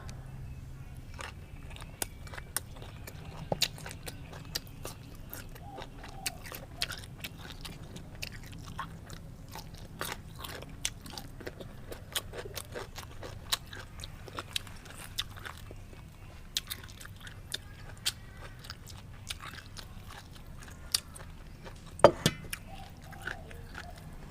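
Someone eats a crunchy Thai pounded bean and bamboo shoot salad outdoors in a backyard garden under a mango tree, with close, quiet chewing and frequent sharp crunchy bites against a low, soft background.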